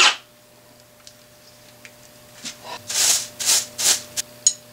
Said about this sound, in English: I'm using another drill to deburr the hole